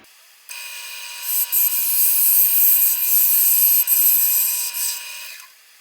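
A 3/8-inch short-grind bowl gouge cutting chestnut oak on a spinning lathe gives a steady, loud high-pitched whine with a few brief dips and surges as the tool engages the wood.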